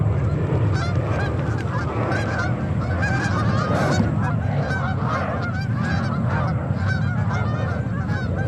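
A dense flock of waterfowl honks and calls loudly and continuously as the birds take off near JFK Airport, with overlapping nasal cries filling the whole stretch close by.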